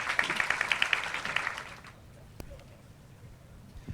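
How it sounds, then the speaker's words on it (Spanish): Audience applause greets a panelist at a business conference panel on free trade agreements, a burst of dense clapping that fades out after about two seconds, leaving a quiet room. "Lo recibimos con un fuerte aplauso"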